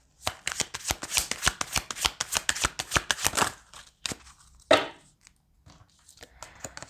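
Rapid riffling of tarot cards in a quick burst of crisp flutters, followed by a few isolated slaps and soft handling noises, close up.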